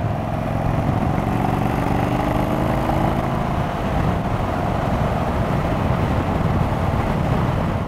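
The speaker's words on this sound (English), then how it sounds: "I like this engine" An Indian Chief Dark Horse motorcycle engine hums with a steady low rumble at low road speed, close and constant, mixed with wind noise.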